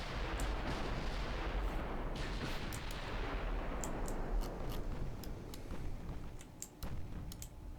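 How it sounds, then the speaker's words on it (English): Heavy 13- and 15-inch naval guns fire in the Ultimate Admiral Dreadnoughts video game, a dense, continuous rumble of distant booming salvos with scattered sharp clicks on top. "because I've have 13 and 15-inch guns in the fleet, so you can see for yourself how they perform"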